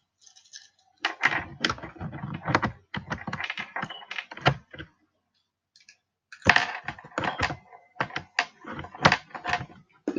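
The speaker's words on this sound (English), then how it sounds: "I'll take the keyboard out temporarily." A keyboard is being removed from a Braille Sense U2 notetaker, heard as bursts of close, crisp plastic clicks and clacks in two clusters separated by a short quiet gap.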